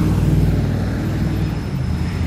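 Cars idle and pass in street traffic at a traffic light in Yerevan, a close, loud low engine rumble with steady road noise and no talk.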